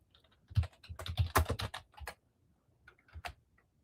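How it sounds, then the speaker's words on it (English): Someone types on a computer keyboard, quick bursts of clicky keystrokes close by, then a pause and a short final flurry, with no talk. "Is my keyboard turned on?"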